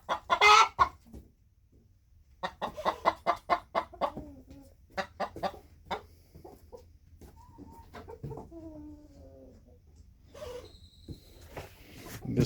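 Hens squabble over a nesting box, sounding off in a burst of loud clucks and squawks, then trailing into scattered, drawn-out calls with quiet gaps between, close by and without talk.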